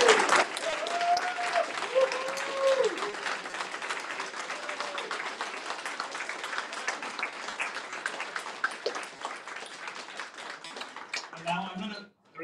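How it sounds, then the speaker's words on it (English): A group claps and cheers to celebrate the release of SCS Software's West Balkans truck-game expansion. The applause is dense and continuous for about twelve seconds, then fades out at the end. "let's clap our hands and say thanks to everybody that made it possible"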